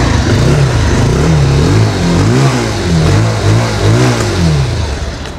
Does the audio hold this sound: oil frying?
no